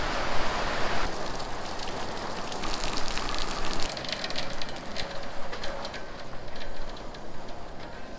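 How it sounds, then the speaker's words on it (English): Rain falls steadily outdoors, a dense continuous hiss with scattered patters and drips throughout, and no voices. "Oh God, it rained."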